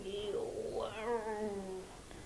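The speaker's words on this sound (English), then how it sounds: "We're surrounded by cats" A cat meows several times in a row, drawn-out and wavering, fairly close, with people talking faintly in the room.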